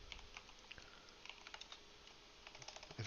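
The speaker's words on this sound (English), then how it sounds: "So I start with ChatGPT and I type in here something such as cute llama" Someone types on a computer keyboard, entering a prompt into ChatGPT, a quiet close run of light uneven key clicks with no speech.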